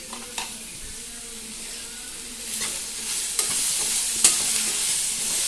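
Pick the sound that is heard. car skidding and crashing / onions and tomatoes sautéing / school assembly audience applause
onions and tomatoes sautéing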